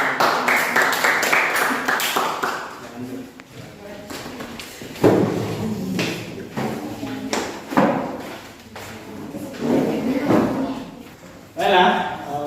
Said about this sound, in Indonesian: silakan berikan tepuk tangan untuk penampilan dari